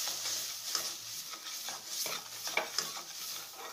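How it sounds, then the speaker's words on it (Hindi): Masala of Kashmiri chili, cumin and coriander powder roasting in a pan while being stirred, giving quiet, close scraping strokes over a soft sizzle with a few small clinks. "फिर अच्छी तरह से मसाला को भून"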